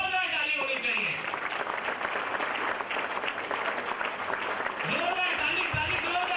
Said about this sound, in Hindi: तो इन लोगों के लिए एक बार जोरदार ताली होनी चाहिए।